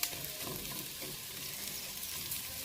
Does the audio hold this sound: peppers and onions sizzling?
yes